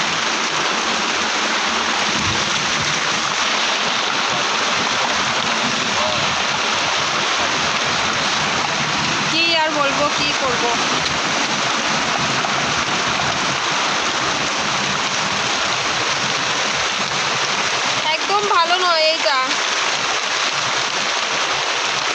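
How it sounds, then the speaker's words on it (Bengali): Heavy rain pours down in a loud, steady hiss throughout, with a voice briefly speaking twice beneath the downpour. "কত বৃষ্টি হচ্ছে দেখছো।"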